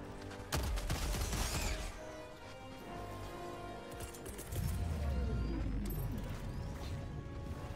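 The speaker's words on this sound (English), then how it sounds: "Look at that explosion." Explosions and a nuclear blast in the video game Helldivers 2, with sharp crashing bursts followed by a deep, loud rumbling boom that rolls on and swells midway through, no talking.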